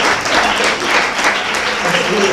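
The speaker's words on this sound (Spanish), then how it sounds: "Denle palmas al Señor." A church congregation claps for the Lord at a sermon, a dense, steady wash of applause that holds for the whole stretch and stays loud and close throughout.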